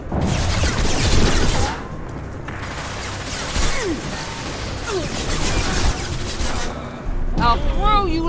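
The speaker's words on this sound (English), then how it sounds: "Firing a high-impact shot!" Gunfire in the Mass Effect 2 video game, a dense, loud battle of rapid shots and heavy impacts running throughout, with voices shouting under and between the shooting.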